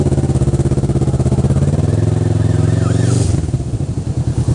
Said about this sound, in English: That was two guys on a scooter with no helmets flying through a red light with some kind of siren